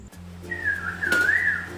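A single melodic myna call, a rising and falling whistle-like note over a low steady hum, heard fairly close.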